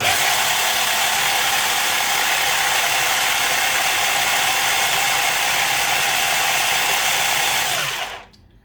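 Blender whirring steadily while emulsifying homemade mayonnaise ingredients with fresh lemon juice, a loud, constant motor buzz for about eight seconds that cuts off abruptly at the end.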